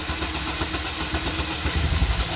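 An engine turns over and runs rough at wide open throttle, a loud, close, continuous drone with a lumpy low pulse that grows a little stronger toward the end.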